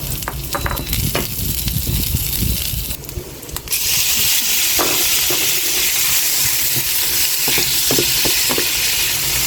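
Garlic frying in a pan, a loud, dense sizzle that swells sharply partway through, with scraping stirs and small clicks of a utensil close by.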